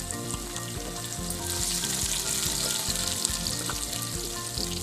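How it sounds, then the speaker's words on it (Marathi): Garlic, ginger, coriander and mint paste fries with onions in a pan, giving a continuous close sizzle and crackle with stirring scrapes over a low hum. "मी लसूण आलं आणि कोथिंबीर पुदिन्याची पेस्ट केली ती मी घालून घेते"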